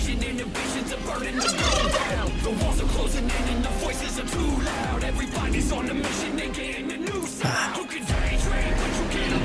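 Turkeys in the Roblox Kaiju Universe game gobble repeatedly, loud, busy bursts of calls layered over a noisy, crowded game background.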